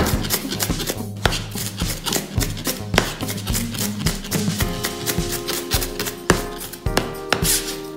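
A knife chops vegetables such as spring onion and pepper on a board for Esmeraldas-style fish tapao, a steady run of sharp rhythmic thuds close up, alone without talk.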